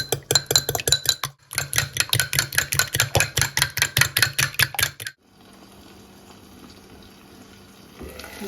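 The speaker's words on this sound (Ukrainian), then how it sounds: "Беремо два яйця і добренько вилочкою збиваємо." Two eggs are beaten with a fork in a bowl, making a fast, even run of close, bright clinking strokes that pause briefly, pick up again and stop after about five seconds, leaving quiet kitchen room tone.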